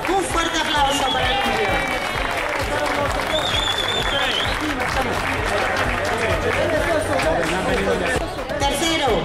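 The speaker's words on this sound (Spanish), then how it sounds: "Un fuerte aplauso para Nuria." A crowd applauds loudly and steadily at the trophy ceremony of a mountain bike event in Puebla de Sanabria, with a dense wash of clapping and cheering mixed with babble throughout.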